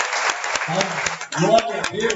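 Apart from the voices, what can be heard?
church congregation applauding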